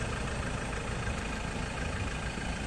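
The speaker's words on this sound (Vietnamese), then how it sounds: "Đấy, máy rất là êm luôn nhá. Máy rất là êm." A 2014 Japanese four-wheel-drive diesel pickup truck idles steadily, a smooth, even engine hum with a constant low rumble and no revving, heard alone.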